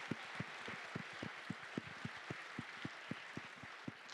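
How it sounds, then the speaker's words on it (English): A theater audience at a nonprofit anniversary event applauds, a faint, distant patter of claps with a few sharper individual claps standing out at a steady pace. "let's give Scott a big round of applause"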